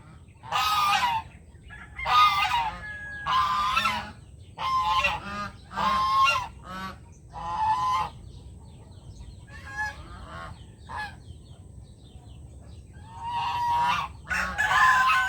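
Geese honk repeatedly nearby, loud nasal calls in irregular bursts, several birds overlapping, with quieter gaps between.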